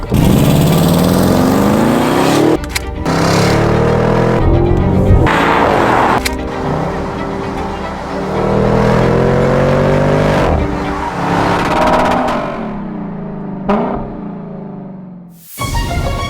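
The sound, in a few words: Audi RSQ8 4-liter twin turbo V8 engine revving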